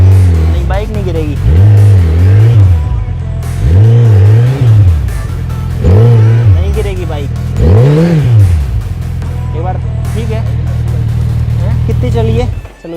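A Suzuki Hayabusa motorcycle revs repeatedly while dragging a disc harrow across a farm field, engine notes rising and falling in several surges before settling into a steady drone, with people talking over it.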